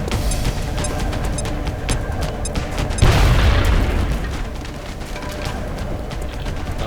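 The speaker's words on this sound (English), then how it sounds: "we're going to be using his grenade first" A grenade explodes in the XCOM strategy game: one loud, heavy blast bursts out midway and rolls off slowly over a steady bed of background game ambience.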